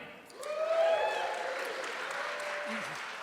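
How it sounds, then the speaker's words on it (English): An audience at a live podcast show applauds for a speaker, a steady, moderately distant wash of clapping that swells briefly at the start and then holds. "round of applause for Jeremy."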